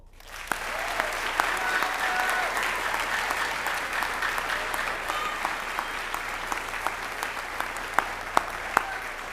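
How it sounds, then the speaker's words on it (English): A crowd claps steadily and enthusiastically at a university senior class awards ceremony, a dense patter of many hands with a few sharper individual claps standing out near the end. "Now we applaud"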